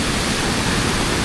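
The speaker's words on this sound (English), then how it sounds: "the noise obviously from the river, it's a lot more full right now because of all the runoff from the winter season" A full river swollen with winter runoff rushes steadily and loudly, an unbroken broadband roar close by with no voices over it.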